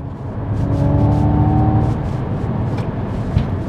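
A steady synthetic hum with sustained tonal lines, the artificial driving sound of an electric Ford Mustang GT, hangs over road noise inside the moving car, fading slightly midway, no voices.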